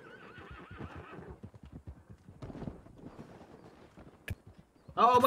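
Horse in the Red Dead Redemption video game whinnying near the start with wavering tones, followed by a run of clip-clopping hoofbeats, then a sudden loud burst at the end.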